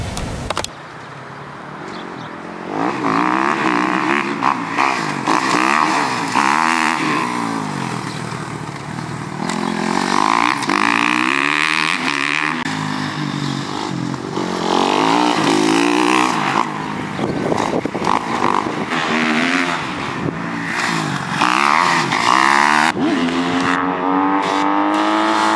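A 2012 Kawasaki KX250F dirt bike engine revs up and down repeatedly over a long stretch, loud and close, with rising and falling pitch as the throttle is worked and no talk.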